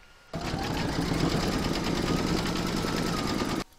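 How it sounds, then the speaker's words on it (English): An embroidery machine runs a zigzag stitch around the edge of a boot vamp piece in the hoop, a fast steady mechanical chatter lasting about three seconds, starting and stopping abruptly. "pop that back into your machine and stitch round number 6, and that's going to zigzag all around the edge of the vamp"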